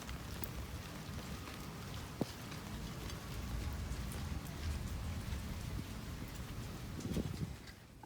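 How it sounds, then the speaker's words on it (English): Steady rain falls outdoors beside a house where chicken is being grilled, a constant broadband hiss of drops with a brief sharp tap partway through and no talking. "It's raining outside"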